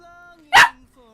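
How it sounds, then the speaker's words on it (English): Cooper the puppy lets out a single sharp bark, loud and close, over a quiet background of a person's voice humming along faintly. "I'm really sorry about the barking."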